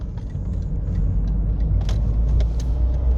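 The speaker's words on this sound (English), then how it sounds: "this car does get quite noisy at speed" Cabin noise inside a Mazda 2 Mk1 with a 1.4 engine at speed: a steady low road and engine rumble with a few faint clicks and rattles, no talk.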